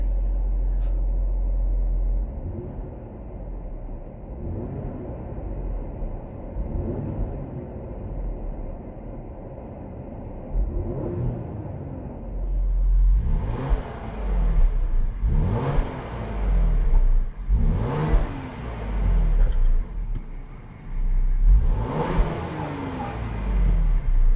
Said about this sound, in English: while we're parked here, I'll give it a couple revs and we'll see what we got here